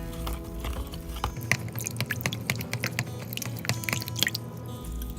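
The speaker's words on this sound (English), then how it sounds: "I want to stir it to make sure that all of the salt dissolves." A spoon stirs 38 grams of Himalayan salt into beet kvass brine, making steady light clinks and soft watery swishes close up, with no talking.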